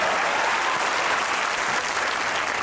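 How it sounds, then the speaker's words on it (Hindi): Dense, steady applause from a young studio audience at a comedy talk show, loud and continuous throughout with no break. "नौजवान तालियां बजा के बताएं"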